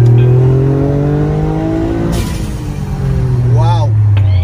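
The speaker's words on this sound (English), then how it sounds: "But this is a first gear pull." Toyota GR Yaris pulling hard in first gear, engine note climbing steadily, with someone talking over the rising drone from inside the car.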